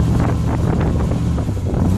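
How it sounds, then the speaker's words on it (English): A boat's engine runs steadily just after starting, a loud, even low drone with a humming tone and rushing wind noise throughout and no pauses. "Yes, we can start the engine now. So you can hear it. It starts pretty good."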